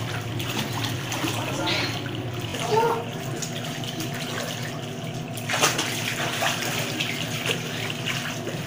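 Water in a home swimming pool splashes and churns steadily as children swim, a continuous watery wash with brief louder surges, under voices.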